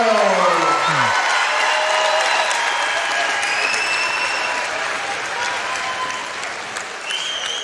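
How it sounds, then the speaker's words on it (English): Crowd applause fills a boxing event hall for a graduating boxer, loud and sustained throughout with scattered cheers and whoops, after a brief tail of a voice at the start. "And one more round of applause for the graduating outstanding boxer, Sam Leonardo."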